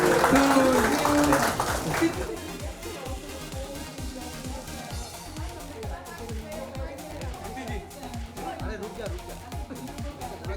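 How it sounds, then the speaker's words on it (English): Audience at a Charles & Keith wedding collection shoe launch in Mumbai applauding: a burst of clapping and shouts that fades into scattered, rhythmic claps, with people talking over it. "Big round of applause."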